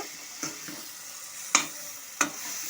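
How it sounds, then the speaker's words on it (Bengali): Peanut paste being stirred into fried spices in a pan, a quiet low sizzle broken by three sharp scraping clinks of a spoon against the pan, close by with no talk. "সমস্ত মশলার সাথে চিনাবাদামের পেস্টটাকে মিশিয়ে নেব।"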